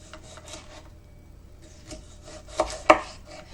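A knife slices through fruit into pieces for homemade sushi and maki, a few soft, close cutting and rubbing strokes, with two sharper chops near the end.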